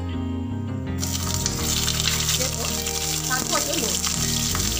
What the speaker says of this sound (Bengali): এবার পটলগুলোকে খুব ভালোভাবে ভেজে নিচ্ছি।